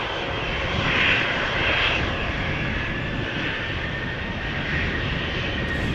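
A Norwegian Boeing 737-800 departing Amsterdam Schiphol for Oslo, a sustained broad jet roar with a faint high whine, steady and fairly near, with no one speaking.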